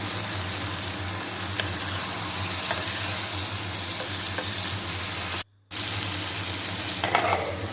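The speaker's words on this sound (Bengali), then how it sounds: "এখন আমি এর মধ্যে লবণ তেল হলুদ মাখানো মাছগুলোকে দিয়ে দিলাম" Turmeric- and salt-rubbed fish hit hot oil in a pan for chochori, producing a steady, dense sizzle that runs throughout at close range, interrupted by one brief silent gap, with no talking.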